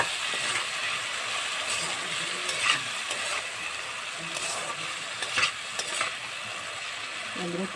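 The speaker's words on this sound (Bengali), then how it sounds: "এগুলো একটু ভাজা ভাজা করে নিই" Potatoes seasoned with turmeric and salt fry in a pan, giving a steady sizzle. Scraping stirs rise above the sizzle at intervals, with a few sharper clinks, and no one speaks.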